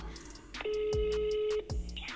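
A telephone call connects, with short dialing clicks followed by a long, steady ringback tone that cuts off, close and clear with faint background noise.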